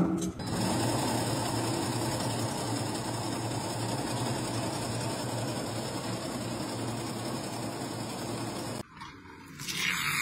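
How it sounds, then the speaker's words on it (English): Factory hydraulic press machinery runs with a loud, steady, dense mechanical drone and a constant high whine, close and unbroken, then changes abruptly near the end. "look at the raw power of these machines running on a hydraulic press"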